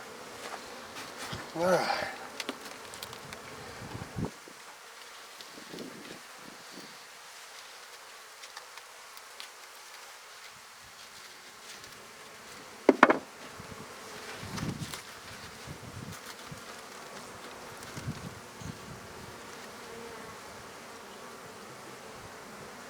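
Honeybees buzzing in a hive opened for a March inspection, a steady low hum of many insects with a few louder passes near the microphone; a voice speaks briefly.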